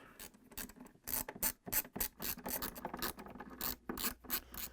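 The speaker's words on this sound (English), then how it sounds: "I'm using a 1/4-inch socket wrench with an extension, and I'm going to take it out" A 1/4-inch socket ratchet wrench with an extension removing screws from a Frigidaire refrigerator defrost drain pan, a close, loud series of quick clicking ratchet bursts with short pauses between, no talk.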